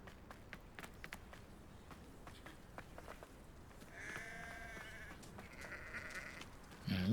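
Sheep bleat in a Hogwarts Legacy game scene, a run of wavering, moderately loud bleats over a steady ambient bed with faint footstep-like ticks, followed by a short low thump at the end.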